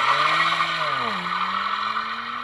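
A car's stock tires squealing under hard acceleration, with a loud sustained screech that dips and then levels off as the engine pulls, heard alone with no talking.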